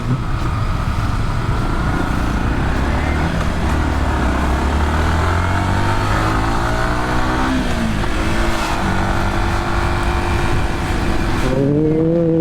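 A Hyundai Tucson drives along a road, its engine a loud steady drone with rising and falling pitch as it accelerates and shifts, close and continuous with no talk.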